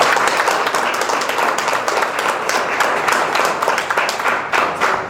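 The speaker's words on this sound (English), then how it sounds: "Let's give a round of applause to all the Toastmasters," A room of Toastmasters club members applauds steadily at the 2012 Tallahassee Toastmasters Diamond Jubilee, a dense, loud wash of many hands clapping that lasts the whole stretch without letup.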